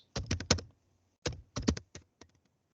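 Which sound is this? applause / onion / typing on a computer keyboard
typing on a computer keyboard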